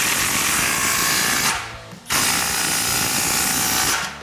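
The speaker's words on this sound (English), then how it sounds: "Now I'll use a 15mm socket on my impact gun and tighten up this clamp to wrap up this install." An impact gun with a 15mm socket tightens an exhaust clamp on a Proven Ground C&L Series muffler fitted to a 2019-2022 RAM 1500 5.7L; two loud, close, rattling bursts with a brief pause between them.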